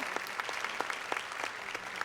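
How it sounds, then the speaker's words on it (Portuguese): An audience at a live talk event in Brazil applauds, a light, fairly quiet patter of individual claps coming in a loose, uneven rhythm across the moment. "Agora vemos o público batendo palmas."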